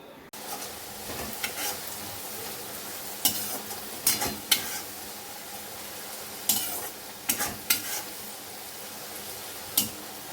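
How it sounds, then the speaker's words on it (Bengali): Grated potatoes frying in a pan, a continuous soft sizzle broken by sharp scraping stirs every second or two, close and fairly quiet, no speech. "তো এখন ভাজা শুরু করব, চলো।"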